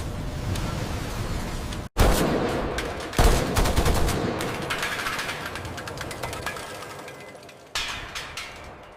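A 30mm Bushmaster auto-cannon test-fires in a factory, giving sustained, loud, rapid-fire bursts that roar almost continuously, broken by two short gaps before the firing resumes.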